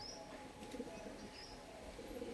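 Madras pigeons cooing softly and faintly nearby, with light chirps over a quiet indoor background.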